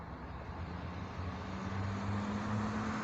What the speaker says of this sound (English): That's the hub spinning right there.